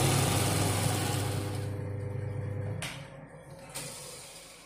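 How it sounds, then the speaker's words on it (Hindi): An embroidery machine runs a tacking stitch through the centre of a suit fabric to hold a patch in place, a steady mechanical hum close by that ends abruptly partway through, followed by a couple of brief clicks. "यहाँ मशीन पर हम थोड़ा मशीन से सेंटर में कच्चा टांका लगा देंगे ताकि जब हम पैच लगाएंगे तो ये हमारा हिले ना"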